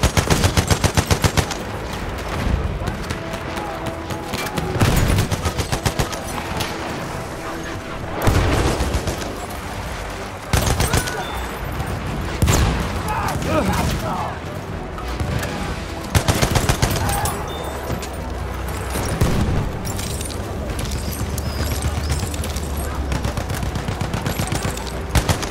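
Gunfire from the video game Battlefield 1: rapid machine-gun bursts and single shots crack and echo in repeated clusters over a constant battlefield rumble, with occasional booms and faint voices over a long stretch.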